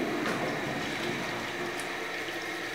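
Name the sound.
water from a toilet flush going down a drain stack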